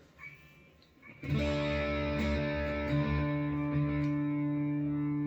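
Michael Kelly 60 Forte Port hybrid acoustic-electric guitar on its neck pickup, played through overdrive: a soft lead-in, then from about a second in a loud, sustained, distorted chord ringing steadily to the end with no talking.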